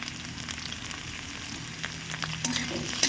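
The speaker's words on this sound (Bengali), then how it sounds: "কুচি করে রাখা আলু দিয়ে দিচ্ছি। এই আলুটাও এর সাথে ভেজে নেব" Steady crackling sizzle of thick-cut potatoes frying in a pan, with a few louder spatters and a slight stirring near the end.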